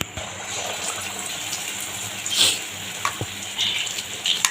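Vada batter frying in hot oil gives a continuous bubbling sizzle close by, with a few brief louder spurts of hissing and crackle over the 4 seconds.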